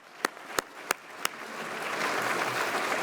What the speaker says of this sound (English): How about a round of applause for Jim Bullard and Penny Pennington?